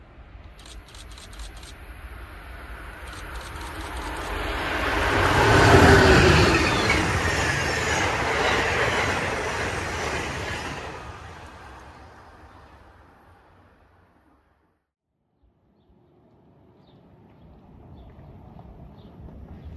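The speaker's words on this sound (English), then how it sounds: "Amtrak train number 43, the westbound Pennsylvanian, is quickly making time down the Northeast Corridor, with P42DC number 111 trailing second in the contest" An Amtrak Pennsylvanian passenger train led by a P42DC diesel locomotive rushes past on the Northeast Corridor in central New Jersey, a loud swelling roar with rail rumble and wheel screech that fades to near silence, then a faint rumble returns.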